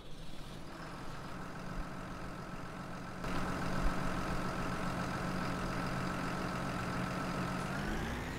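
A tractor engine idles in the Farming Simulator 19 video game, a steady low droning rumble that steps up in loudness partway through and keeps a constant hum to the end.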